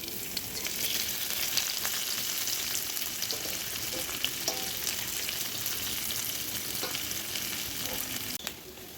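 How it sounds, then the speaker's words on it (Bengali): Onions sizzle steadily in hot oil that was just used to fry potatoes. The dense, crackling frying noise is loud and even throughout, with faint stirring scrapes and no voices. "এবার এই তেলের মধ্যে দিয়ে দেবো পেঁয়াজ।"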